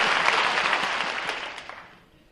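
A burst of audience applause at a Stephen King talk, dense clapping from many hands that fades away over a couple of seconds.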